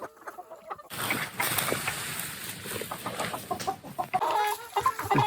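Backyard flock of chickens clucking near a coop under a deck, with repeated short clucks and squawks at close range, fairly busy and continuous after a brief quiet start.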